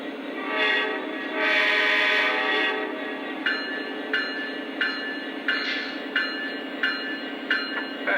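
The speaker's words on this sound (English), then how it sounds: "let's have some fun by running this locomotive around the layout" Lionel Legacy Union Pacific model locomotive with two motors running around a layout, giving a steady loud motor drone and rumbling track noise with blasts of horn, then a regular train of rhythmic clicks.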